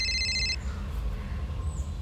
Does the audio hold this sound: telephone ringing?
yes